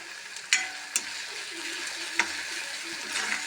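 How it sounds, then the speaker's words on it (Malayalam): Sliced onions and tomatoes soften in a hot pan for a pappadam curry while a spoon stirs them, producing a faint sizzle broken by a few sharp scraping clicks, close and without talk. "സവാളയും തക്കാളിയും ഒന്ന് വാടുന്നത് വരെ ഇളക്കിക്കൊണ്ടിരിക്കാം."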